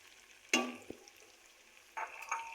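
A spoon clatters once in a pan of frying keema for keema aloo as tomatoes and spices are stirred in. A soft sizzle follows and builds toward the end.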